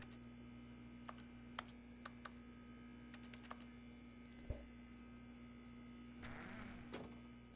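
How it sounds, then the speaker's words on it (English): Clicks of the interaction button in The Stanley Parable, sounding like keyboard keys: a scattering of sharp, soft clicks over a steady electrical hum, with a louder rustling burst near the end. "the interaction sound is like a clicking on a keyboard"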